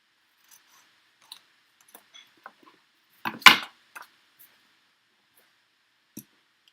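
Scissors snipping paper for a scrapbook layout, a few quiet isolated snips and clicks leading to one louder burst of cutting midway, then sparse faint snips, with no talking.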